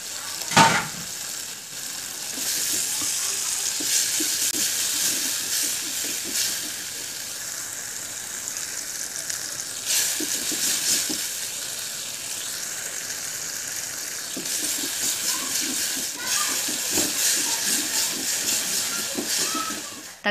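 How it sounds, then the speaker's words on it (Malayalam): Tomatoes fry over softened onions in a pan for a Thalassery-style anchovy fish curry, giving a steady close sizzle with occasional stirring clicks and scrapes, no voices. "അതിലേക്ക് ഞാൻ തക്കാളി ചേർക്കുകയാണ്."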